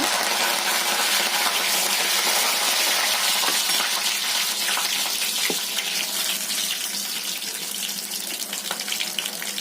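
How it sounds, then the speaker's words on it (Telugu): Tempering seeds and curry leaves hit hot oil in a pan, producing a loud, dense, hissing sizzle with scattered pops that runs steadily throughout. "వేగిన తర్వాత తాలింపు గింజలు వేసుకున్నామండి అలాగే కరివేపాకు"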